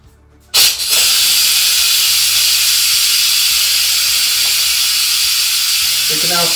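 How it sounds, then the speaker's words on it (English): A loud, steady hiss of steam rushes out abruptly from a crockpot pressure cooker after a brief quiet moment and continues unbroken, close and harsh, like a pressure release valve venting. "You can either use a funnel to divert the steam"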